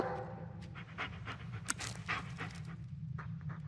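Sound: dog panting, from video game Blair Witch

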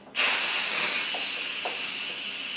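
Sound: Instant Pot steam release valve venting steam

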